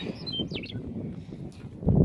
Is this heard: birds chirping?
yes